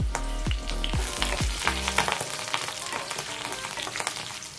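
Curry leaves crackle and sizzle loudly in hot tempering oil with green chilli and ginger, opening with a quick series of sharp spits and pops that settle into a steady, dense frying hiss, with no talking.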